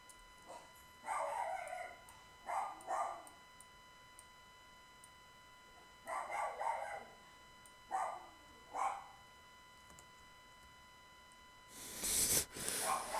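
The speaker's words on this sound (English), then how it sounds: "that's my little dog Susie Q barking." A dog barks faintly in the distance, in short clusters of two or three barks with pauses between, ending with a louder rustling clatter nearby.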